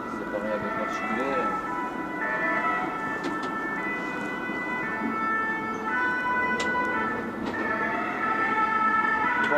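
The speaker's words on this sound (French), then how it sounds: "Oh, 2 ambulances." Sirens of two ambulances wail steadily through the whole stretch, heard from aboard a city bus, layered over busy traffic rumble, with voices occasionally talking underneath.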